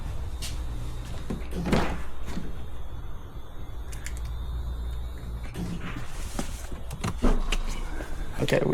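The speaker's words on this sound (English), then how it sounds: "Okay, we got the trunk open." The trunk of a BMW with a dead battery is opened, giving a few clunks and creaks of latch and lid spread over several seconds against a low background rumble, with no voices.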